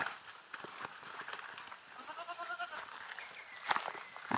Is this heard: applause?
no